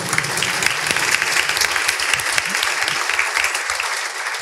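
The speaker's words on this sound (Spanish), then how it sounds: "Un fuerte aplauso." An audience applauds loudly at a book presentation on transhumanism and Christian faith, with sustained, even clapping throughout.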